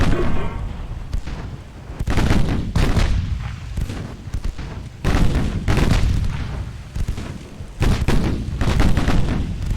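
Batteries of 6-inch naval guns firing aboard warships in a battleship game, heavy booming salvos landing in irregular clusters with brief gaps between, loud and close, no voices.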